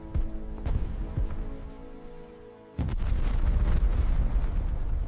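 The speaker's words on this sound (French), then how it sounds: "L'artillerie de campagne tire à bout portant sur les palissades." Heavy field artillery fire from light cannons booms with several thudding blasts at wooden palisades over a droning background, then a sustained roar of rumbling bombardment takes over.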